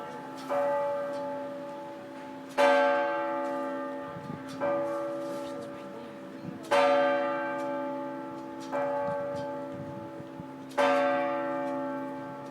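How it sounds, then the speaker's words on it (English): Church tower bells in an old European town ring out in slow, evenly spaced strikes, each loud clang decaying into a long humming tail before the next. "several of the bell towers were going off when we were there. So we were able to capture that and the sound."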